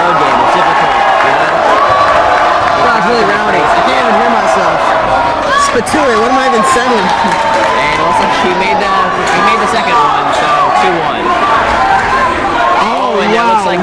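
Crowd noise and cheering fill a boys basketball game between the Colonials and Lynn in a gym, a steady roar of chatter and shouts with a commentator talking over it.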